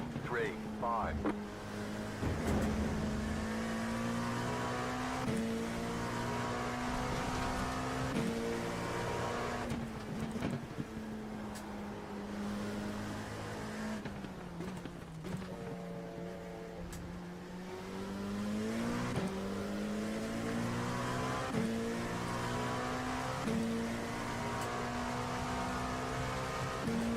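Engines of race cars in a 50-lap video game race whine continuously with rising and falling pitch through gear changes; tire squeal is not clearly distinct, and a voice talks over the engine noise.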